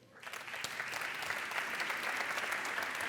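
A conference audience claps for a speaker from a manufacturing company, applause swelling quickly from quiet and holding dense and steady, a large crowd heard from moderately far.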